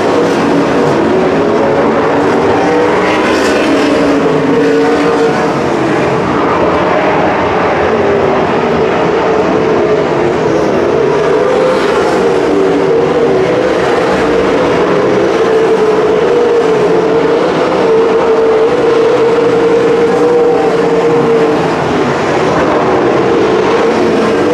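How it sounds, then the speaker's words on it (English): Wingless sprint cars race at Calistoga Speedway, a loud, continuous engine roar from the pack sweeping through the turns with no breaks. "Slack off turn number 2, paddling Shane Myhre for the 5th spot"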